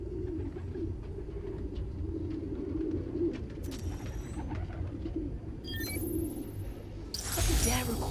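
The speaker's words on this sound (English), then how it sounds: "There's a lot of birds around here." Soft, low pigeon cooing rolls on continuously as a sound sample in Marvel's Spider-Man: Miles Morales, with flutters, faint chirps and a sharp rattle near the end over steady ambient noise.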